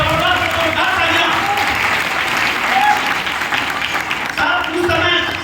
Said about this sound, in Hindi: जबरदस्त तालियां दीजिएगा आप लोग मिस्टर संजीव कुमार सर के लिए